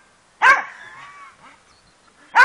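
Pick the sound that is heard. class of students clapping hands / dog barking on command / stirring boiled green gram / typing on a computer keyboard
dog barking on command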